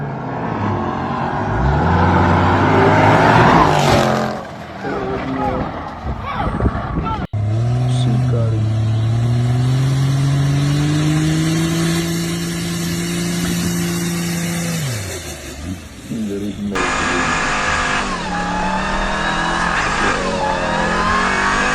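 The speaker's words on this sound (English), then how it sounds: "he's smacking rev limiter all the way back to camp" An off-road 4x4 engine roars under heavy strain, rising and falling as it bangs against the rev limiter in repeated surges, with excited voices talking over it and shifting engine tones across several cuts.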